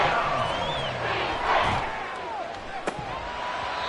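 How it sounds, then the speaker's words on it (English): A packed stadium crowd roars loudly and steadily at a Chiefs football game, a dense wash of cheering and yelling with sharp thuds, while a commentator talks over the noise. "This crowd turning up the decibel level."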